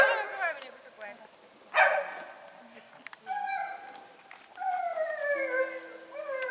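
A dog howls along with people singing, its long wavering wails rising and falling over the voices in a sustained, loud chorus.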